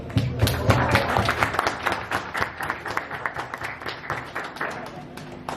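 An audience at a TVS Raider 125 motorcycle launch applauds with loud, dense clapping that thins into scattered individual claps, with talk mixed in.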